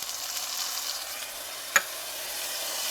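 Minced garlic sizzles in hot olive oil in a pan over medium-high heat, a steady soft hiss with one brief sharp crackle partway through.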